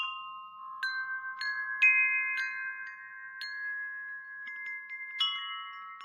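A Woodstock wind chime with a stacked design rings out in a sparse series of clear metallic strikes, each tone hanging and overlapping the last as it slowly fades.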